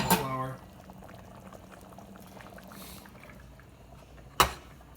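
A pot of sauce loaded with celery, cauliflower and vegetables simmering back up to temperature, a low steady bubbling under a brief pour at the start and a sharp clink near the end.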